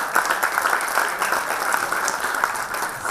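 Audience applause at an inaugural conference, dense sustained clapping from a large crowd that holds steady and loud throughout.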